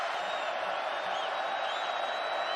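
College football stadium crowd roaring steadily for the defense during an Arkansas game, a dense, continuous wall of cheering and whoops filling the whole stretch without a break.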